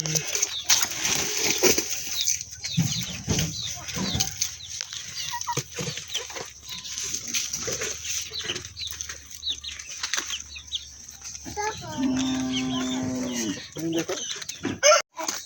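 Free-range cocks and chickens on a poultry farm cluck and flap their wings nearby in bursts of flapping and scattered clucks, with a drawn-out crowing call near the end.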